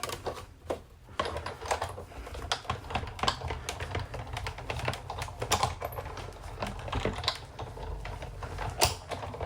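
A cutting machine runs as material is fed through it, giving a steady stream of dense mechanical clicking and rattling with a constant low rumble underneath, close and fairly loud throughout.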